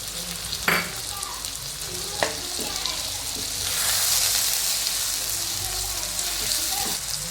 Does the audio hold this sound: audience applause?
no